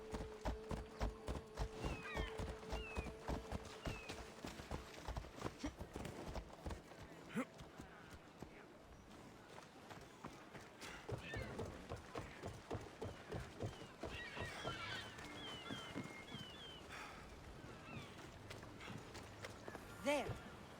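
A horse in Assassin's Creed Odyssey gallops through the town of Corinth, with rapid clip-clop hoofbeats and an occasional whinny, close and clear, while voices talk over it.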